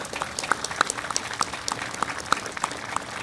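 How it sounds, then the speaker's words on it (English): An audience claps at a change of command ceremony for the USS Tripoli, a modest round of scattered, distinct handclaps over a light crowd wash, continuing evenly throughout. "let's do a big round of applause for the Park family."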